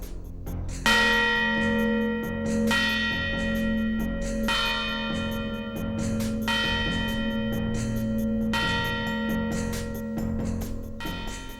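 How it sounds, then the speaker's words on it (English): A church bell in the Sardinian town of Milis tolls to announce a death, slow, evenly spaced resonant strokes ringing out with long humming decay between them. "Mourning in the town of Miana Sardo was marked from the beating of that bell"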